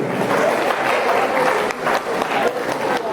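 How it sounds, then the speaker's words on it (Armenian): Audience at a wedding celebration claps loudly and steadily in a dense burst of applause, with voices mixed in under the clapping. "վերեք մի հատ էլ բարձր ծափահարենք Հովսեփին"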